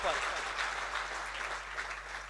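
An audience at the inauguration of a science institute gives steady, dense applause at moderate level, a broad wash of clapping that holds evenly throughout without any clear voices.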